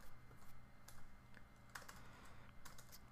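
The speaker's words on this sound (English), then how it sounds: "Oh, I can't type today." Light, quick keystrokes on a computer keyboard come in irregular short bursts, fairly faint and close, with no talking over them.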